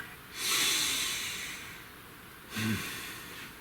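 Two deep breaths during a guided breathing moment, a long airy inhale-exhale around the first second followed by a shorter, sharper breath with a nasal snort, close and alone with no talk.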